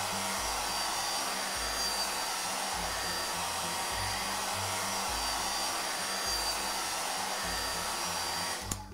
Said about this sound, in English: let me use this blow dryer to completely dry your hair